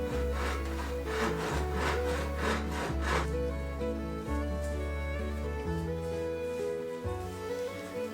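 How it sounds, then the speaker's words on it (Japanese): A hand saw cuts through wood in steady back-and-forth strokes, most distinct in the first few seconds, with sustained music playing underneath throughout. "ノコギリを使うのは初めてなので手間取りました"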